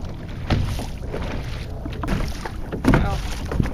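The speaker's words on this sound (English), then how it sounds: "Getting some waves here from the boats" Small waves wash and lap against a shoreline or hull, stirred by boats passing out on the water, with steady wind noise from the microphone and a few louder splashes near the end.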